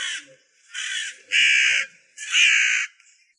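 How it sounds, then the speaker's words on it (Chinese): A crow caws four times in a row, harsh and loud close by, each call about half a second long and separated by brief silent gaps, the last slightly stretched. "我嫌乌鸦吵"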